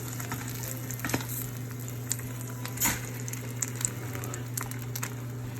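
An egg sizzles in butter in a pan on the stove, a steady crackling fry with scattered sharper pops and a constant low hum beneath, close and fairly quiet throughout.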